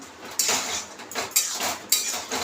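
A metal pot and utensils clink and scrape in a few sharp, close knocks while a vegetarian curry is poured out, with quieter rattles between the strikes.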